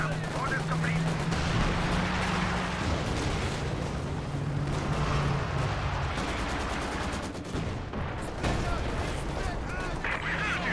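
Explosions and artillery fire in a Company of Heroes 2 tank battle with King Tigers and Churchills: dense, loud booms and rattling gunfire in rapid overlapping bursts, continuous throughout with barely a pause.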